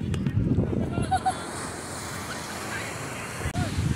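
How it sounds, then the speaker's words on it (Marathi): Strong wind on a beach at Alibag buffets the microphone with a steady roar and rumbling gusts, and surf may wash faintly underneath. "वारा इतका चालू आहे की माझा फोन सुद्धा राहत नाही."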